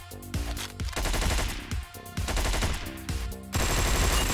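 Rapid, dense gunfire from the video game Hotline Miami 2 rattles continuously in loud bursts, layered over driving game music with no pauses.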